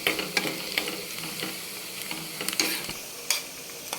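Dried shrimp fry and sizzle in a tomato curry with oil, a steady close crackle broken by sharp clicks of a spoon stirring against the pan.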